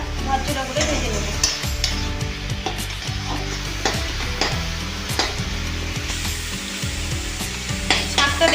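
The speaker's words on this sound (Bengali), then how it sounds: "এবার আমি ভালো করে শাকটা ঝরঝরা করে ভেজে নেব।" Mustard greens (rai shak) fry in a pan under constant stirring, with a loud, continuous sizzle and repeated scraping strokes of a spatula. The sound is close up and runs throughout with no speech.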